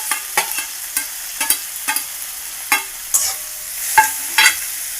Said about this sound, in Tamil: இப்போ இஞ்சி தக்காளி பூண்டு பச்சை மிளகா போட்டுக்கலாம் இது எல்லாமே நல்லா வதக்கிடலாம்